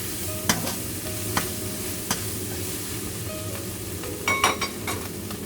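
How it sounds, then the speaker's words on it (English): Cooked minced pork and Shanghai bok choy greens sizzle in a hot wok, with steady frying hiss broken by sharp spatula scrapes and clanks as the mixture is stirred, close up. "Then add the cooked minced pork. Stir fry evenly."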